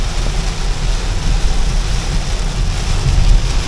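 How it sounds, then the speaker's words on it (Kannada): Heavy rain pours down in a steady, loud, close roar of dense drops with no break and no voices. "ಜೋರ್ ಮಳೆ"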